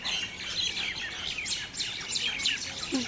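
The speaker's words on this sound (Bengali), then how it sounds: "এই দেখো এই শালিক পাখিগুলো ঝগড়া করছে" Several common myna birds squabbling outdoors, a busy stream of sharp chirps and harsh calls overlapping one another for the whole stretch, moderately close and without talk.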